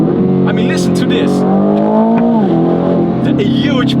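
A 2025 Aston Martin Vantage engine revving hard toward high RPM, a loud close harmonic roar rising and falling with crackles, with speech over the engine noise.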